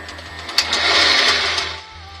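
Wood lathe spinning while a spindle gouge turns a wooden spinning top, a steady broadband whir with a low rhythmic hum beneath, swelling louder through the middle as the tool bites, then easing off.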